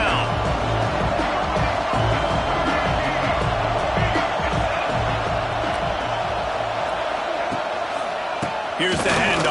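A large stadium crowd in a football video game roars steadily and loudly throughout, with a low rhythmic stomping or chant pulsing underneath.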